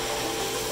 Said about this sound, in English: get out my dust blower here, my leaf blower actually, and just blow out about 20 years worth of dust